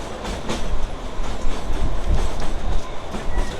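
Kalka-Shimla toy train rolling along its narrow-gauge mountain line, a steady loud rumble of wheels with rhythmic clicks over rail joints, heard up close from on board with no talking.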